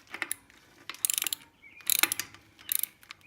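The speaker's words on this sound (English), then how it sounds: "Now I got that on, I can start ratcheting this back into place." A ratchet wrench turning during a rebuild of an 8.8 axle makes several quick bursts of sharp metallic clicking, close and crisp, separated by short pauses.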